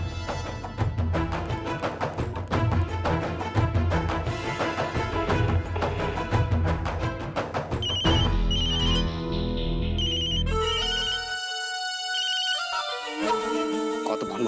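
A phone ringtone plays as a repeated electronic melody for the whole stretch, loud and alone, with the tune changing partway through and no talk over it.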